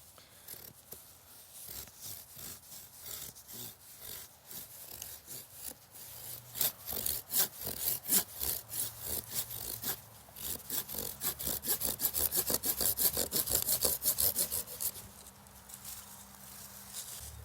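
A hand saw cuts through a tree branch during a pruning job, with steady back-and-forth strokes that speed into a dense, rhythmic rasp close to the microphone before stopping near the end. No one speaks.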